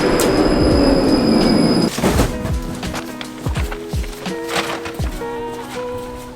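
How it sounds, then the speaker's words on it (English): A tram in Belgium rolls in with a steady hum and high whine, then clanks and rattles over the rails with squealing wheels and rhythmic thumps as it slows. "Yay, the next tram is over there."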